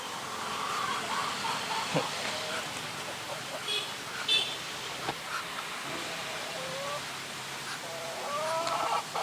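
Muscovy ducks and chickens feeding eagerly in a farm pen: soft clucks and scattered bird calls over a steady background of pecking and shuffling, with occasional louder squawks.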